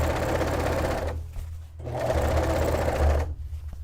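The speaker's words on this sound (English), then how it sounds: "I'm just gonna finish sewing this" A sewing machine runs fast and close while stitching a dress made from bed sheets, in two continuous runs with a brief slowdown between them.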